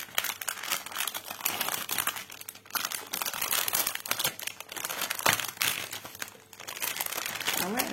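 A diamond painting kit package is opened and unwrapped, with close crinkling and rustling of plastic and paper packaging continuing throughout, while a voice talks faintly at times.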